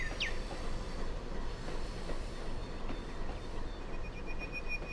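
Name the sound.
train driving in the video game Trainz, Appalachia coal fields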